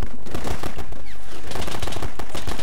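Loud, close machine-gun fire from the World War II strategy game Men of War: Red Tide hammers in rapid bursts, with sharp repeated reports packed densely across the whole clip, with no voices over it.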